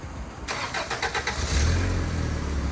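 A Toyota Van Wagon engine cranks briefly and catches, then settles into a steady, close-up idle with a low rumble, no voices over it.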